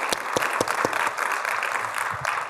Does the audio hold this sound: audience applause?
yes